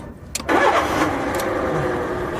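A car engine coughs briefly, then catches and settles into a steady close idle, with no talking over it.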